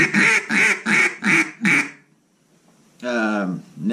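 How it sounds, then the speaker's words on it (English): Five loud, evenly spaced quacks from a Zink NBG acrylic duck call form a descending greeting call, followed by a short silence and one more raspy quack, all close and clear. "Then we'll go with like a 5 or 6 note greeting call."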